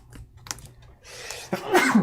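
A person sneezes loudly and close by near the end, after a few quieter throat noises and soft clicks.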